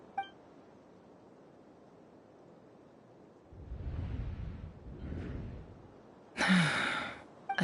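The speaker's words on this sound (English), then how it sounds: "I heard Yehuda gasp" A female character gasps in the video game Genshin Impact, a short breathy intake that comes after a stretch of quiet, low rumbling and is heard alone with no talking.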